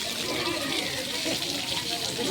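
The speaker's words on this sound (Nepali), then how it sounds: "22 तारा टक्क लगाएर पानी आइरहेछ।" Water gushes from the stone spouts of Balaju Baise Dhara, a dense, steady rushing splash filling the whole moment, close and continuous.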